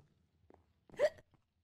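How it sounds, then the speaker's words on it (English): A colonist in the Minecraft Minecolonies game hiccups once, a short sharp hiccup preceded by a faint small catch, isolated in a quiet scene. "Ooh, got the hiccups there, Nikki."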